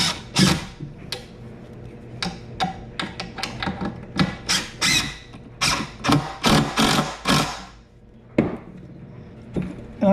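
A drill drives a 2.5 inch screw at an angle into a wooden work table in a series of short, close, rattling bursts with gaps, a longer pause near the end, then more bursts.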